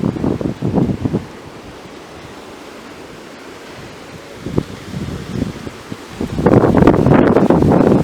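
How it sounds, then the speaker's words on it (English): Ocean surf at Lori Wilson Park in Cocoa Beach, Florida, heard from a wooded trail: a broad, rushing wash that swells and fades, mixed with wind and rustling leaves, with no one talking. "You can hear the ocean, but you can't see it."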